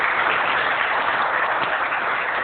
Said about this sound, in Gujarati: આ વાત ઉપર તાળીઓ થઈ જાય